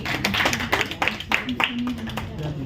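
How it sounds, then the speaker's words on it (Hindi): Applause from an audience at an Inner Wheel Club chairman's official visit in Delhi: scattered, fairly light hand clapping running under a speaker addressing the gathering, with a few sharper claps standing out. "तालियां बजती रहनी चाहिए"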